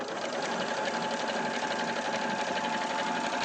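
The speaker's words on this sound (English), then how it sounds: "It does over 50 stitches, this sewing machine." A sewing machine stitching steadily, its fast, even mechanical whirr running continuously and alone at a close, moderate level.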